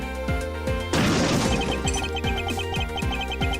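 A sudden loud crash effect from the Ace Attorney Investigations video game marks a plane hitting turbulence. It breaks out over a steady, repeating game music loop and rumbles on briefly before the music carries on alone.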